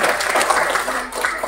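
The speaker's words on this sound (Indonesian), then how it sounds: "Tepuk tangan untuk kita semua Bapak Ibu sekalian." Audience applauding at a kindergarten graduation ceremony in Batam, a continuous dense patter of many hands clapping at moderate distance, with a few voices mixed in.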